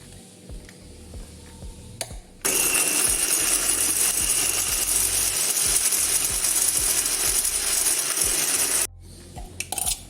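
A mixer grinder jar whirs loudly as it grinds jackfruit for chakka varatti. The harsh, rattling motor sound runs steadily for about six seconds, with quieter clicks and handling noises before and after.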